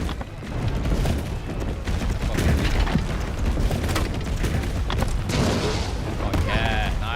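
Land mines explode in a video game, heavy booming blasts rolling continuously through a dense, loud battle mix with scattered gunfire and mechanical clatter.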